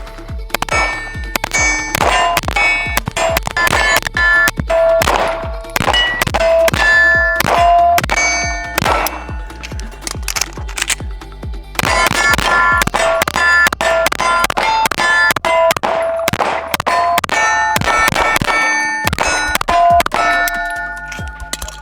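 A Cardinal Arms G2P handgun is fired through a couple of magazines: sharp, loud shots in irregular bursts, each followed by bright metallic ringing, with a short pause partway through.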